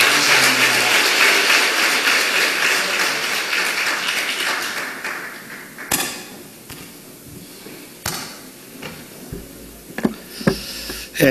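A crowd applauds steadily at first, then the clapping thins out into a few scattered claps and taps in a large room.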